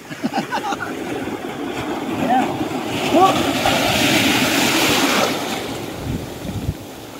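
Strong sea waves surging and washing on a beach late in the afternoon after a typhoon, a steady roar with wind buffeting the microphone and people talking over it at times.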